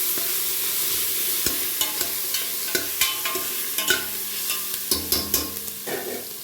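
Coconut pulao ingredients fry in a pan: a steady sizzle runs throughout, broken by repeated scraping stirs and clinks of a spoon against the pan, close and fairly loud with no voices.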